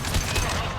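A brief, loud volley of rapid gunfire erupts in the Mass Effect 2 video game as Blue Suns mercenaries and Vorcha fire in close combat.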